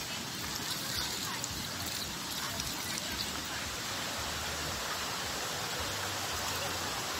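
A waterfall flows with a steady, dense broadband rush of water, constant and close, with no breaks or voices.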